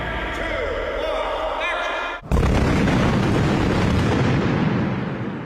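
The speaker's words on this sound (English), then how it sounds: "you'll see all the pyrotechnic charges going off" Pyrotechnic charges go off on a half-scale model shoot for film effects. A sudden loud blast hits midway, then a dense roaring burst of fire follows and slowly fades, and a voice talks during the first part.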